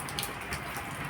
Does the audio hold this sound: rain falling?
yes